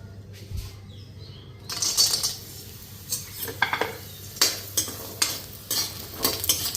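Lentil dumplings (bori) fry in a hot karahi while a spatula stirs them, making repeated scraping and clattering strokes over a soft background sizzle, near and fairly loud after a quiet start.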